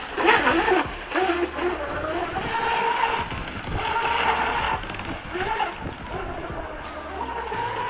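A fast YPC electric RC outboard boat runs over choppy, broken water, its motor whine rising and falling under continuous splashing and spray as the hull skips across the bumps.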